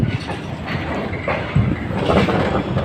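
The 25 Up train rolls through Karachi City railway station, a loud, close rumble of wagons with rhythmic clickety-clack over the rails throughout.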